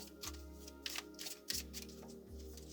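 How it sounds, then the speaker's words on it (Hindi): A deck of tarot cards is shuffled in quick riffling bursts, several rapid flutters close to the microphone, soft but distinct, with no one talking. "कार्ड्स बहुत ज़्यादा बाउंस हो रहे हैं। Let's see, anyways I want to shuffle it again"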